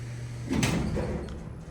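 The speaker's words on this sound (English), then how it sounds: "Montgomery A series with Gilbert doors from 1987." A 1987 Montgomery A series freight elevator's Gilbert doors slide with one rumbling, scraping movement that starts abruptly, close and fairly loud, then fades into a low hum.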